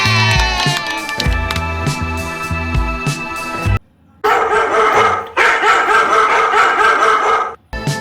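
A dog barks in quick bursts of sharp yips and bow-wows, loud and close, with a short pause between the two main runs and no speech.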